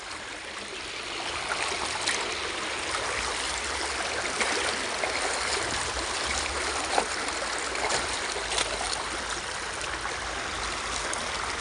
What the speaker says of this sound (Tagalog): Pero limpyo ni nga sapa